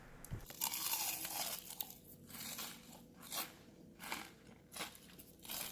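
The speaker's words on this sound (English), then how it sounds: "I want you to hear how crunchy they still are." Extra crunchy fried onion rings crunch loudly and close up, bitten and chewed in a run of crisp, crackling bursts that repeat every second or so with no talking.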